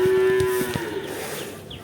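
A large bull lets out one loud, close moo that holds a low steady tone for about a second before trailing off, with no other sound around it.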